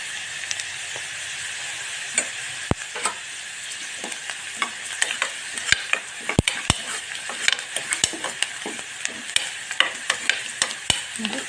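Chopped onions fry steadily in a pan, a continuous bright sizzle with scattered crackles and sharp clicks of stirring near the microphone, no voices.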